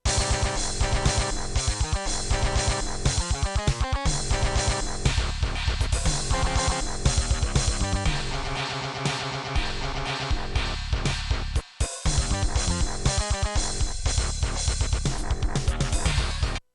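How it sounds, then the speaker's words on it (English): MIDI drum track playing back from Guitar Pro software: a dense, loud, steady rock drum pattern with driving kick and cymbals, a brief dropout near the middle, then continuing to the end. "So this is what the drums sound like in the Guitar Pro."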